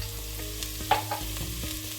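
Garlic and coarse mustard frying in a pan, a steady close sizzle with a few brief scrapes of stirring.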